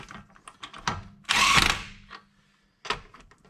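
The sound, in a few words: impact wrench running lug nut onto wheel stud, Ford Escape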